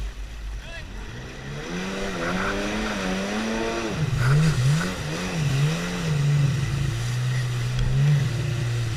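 A Sea-Doo engine is revved repeatedly, its droning motor tone rising and dipping in wavering surges over a constant rumble, loud and close, with voices speaking faintly underneath.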